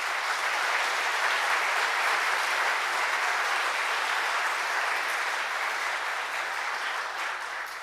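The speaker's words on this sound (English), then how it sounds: "let's give them a huge round of applause" Audience applause at the 2024 President's E Awards ceremony in Washington, D.C.: sustained, even clapping from a large crowd, loud and steady throughout with no voices over it.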